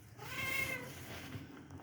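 A cat gives a single soft, drawn-out meow, faint and somewhat distant, over a low background hum.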